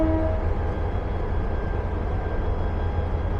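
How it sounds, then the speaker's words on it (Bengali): Agnibina train's meter gauge locomotive on the Dhaka to Tarakandi run, a loud, steady low rumble and engine drone held throughout, with a brief tonal whine near the start and no talking. "এই হলো আমাদের আজকের লোকোমোটিভ"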